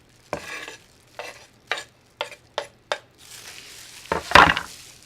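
Chopped jalapeno pepper tipped into a pan of frying onion and stirred, giving a series of short scraping stir strokes followed by a louder, steady sizzle toward the end.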